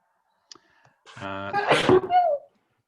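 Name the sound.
sneeze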